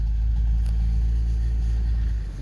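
A two-stroke Subaru 360 van engine idles in a shop, a loud, steady low rumble that holds without revving throughout.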